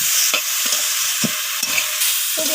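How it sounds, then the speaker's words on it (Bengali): Sajne stalks and flowers frying in mustard oil as a spoon stirs them through the pan, a steady sizzle broken by repeated scraping knocks against the metal. "তো তেলটা দেওয়ার পর আবারও নাড়াচাড়া করে আমি কষিয়ে নিচ্ছি।"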